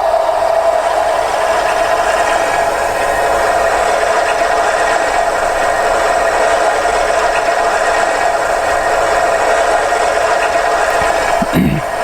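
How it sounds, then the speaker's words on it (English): A Hornby HM7000 model train's engine sound effect, played through a mega bass speaker, drones steadily with a faint rattle, unchanged throughout, loud and close, ending with a brief low thump. "let's start the engine up"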